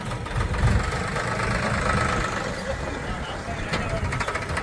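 A farm tractor engine running steadily, a low rumbling idle with a constant chugging throb close by, while people talk over it.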